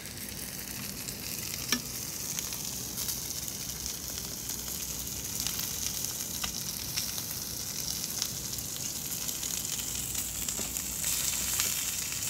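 Fish sizzling over a grill fire, a steady crackling frying hiss running throughout with faint pops, moderately close and no talk over it.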